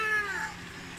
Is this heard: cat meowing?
yes